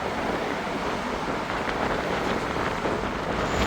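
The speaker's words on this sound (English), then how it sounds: "It's windier than I expected today." Steady, loud wind rushing over an outdoor coastal walkway lined with security mesh, a continuous broadband roar with buffeting against the microphone and no talk.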